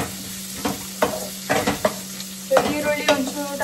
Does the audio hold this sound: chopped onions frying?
yes